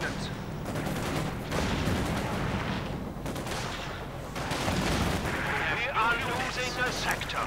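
Continuous gunfire and explosions from a Company of Heroes 2 tank and infantry battle, dense overlapping blasts and rattling shots under excited commentary.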